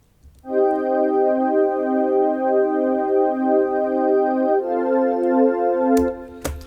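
An ambient Alchemy synth pad called Awake from a Dream in Logic Pro swells in and holds a sustained, space-filling chord that shifts once. It plays alone at moderate level for a score recreation from The Martian, and a couple of brief clicks come near the end.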